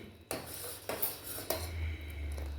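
Sugar syrup for millet adhirasam being stirred in a pan, with three distinct scraping clinks of a utensil against the pan over a low steady rumble, close and moderately loud, no talk.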